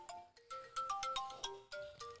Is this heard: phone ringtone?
yes